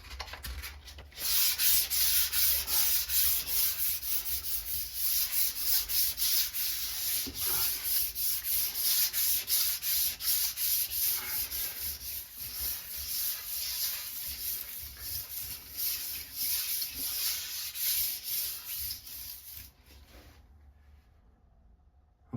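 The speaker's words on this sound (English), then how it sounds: "very gently just go over the area I've sprayed with some 1500 wet and dry, just to smooth any imperfections" Sustained, steady rasping of 1500-grit wet-and-dry paper worked by hand over a sprayed repair area on a shower basin, close and continuous for about twenty seconds before stopping abruptly, with no talking.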